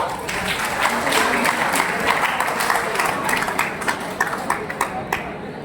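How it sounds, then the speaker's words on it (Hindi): Students at a school session applauding themselves, a loud, continuous round of clapping from a large group that holds steady and gradually turns more scattered toward the end. "अब एक बार अपने लिए जोरदार तालियां बजाओ।"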